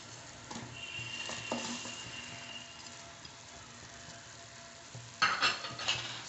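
Spoon stirring Maggi noodles with masala in a boiling pot, soft scraping and bubbling with a few metallic clinks toward the end, fairly quiet and close.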